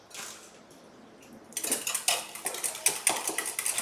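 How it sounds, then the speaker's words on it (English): Hung curd being whisked in a bowl, a quiet start giving way to quick, repeated clinking scrapes of a utensil against the bowl, close and fairly loud, with no talking. "take my hung curd, इसको जरा सा मैं whisk कर देती हूँ"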